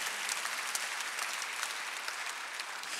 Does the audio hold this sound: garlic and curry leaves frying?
no